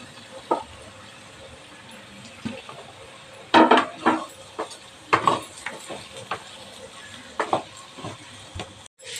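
Ivy gourd fries in a masala in a pan on low heat, giving a soft steady sizzle broken by clusters of scraping, clattering stirring strokes, fairly close.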